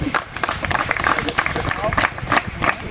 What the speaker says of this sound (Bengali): জোরদার তালিয়া